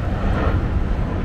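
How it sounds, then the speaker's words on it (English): A fixed-wing airplane comes in to land at a small island airport. Its engine makes a steady, low droning rumble with some wind buffeting, loud and continuous, and no one speaks. "We got a plane coming in."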